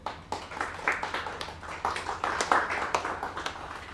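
Audience applause at a factory celebration, a thin scattering of claps from a small group, uneven and somewhat sparse, heard at moderate distance for a few seconds.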